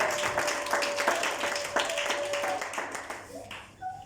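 A church congregation claps and applauds together in a dense, steady patter of many hands that fades toward the end, with a voice speaking over it.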